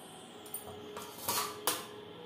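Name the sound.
lid placed on pot of marinated chicken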